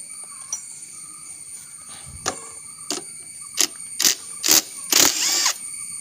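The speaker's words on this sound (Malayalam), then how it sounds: "ഇവിടെ ഒരു 10 മിനിറ്റ് ഒരു ബോൾട്ട് ഉണ്ട്. ആ ബോൾട്ട് ഒന്ന് നമുക്കൊന്ന് ലൂസാക്കേണ്ടതായിട്ടുണ്ട്." A ratchet wrench loosening a 10 mm bolt, first a few sparse clicks, then faster bursts of sharp ratcheting clicks growing louder near the end over faint background hum.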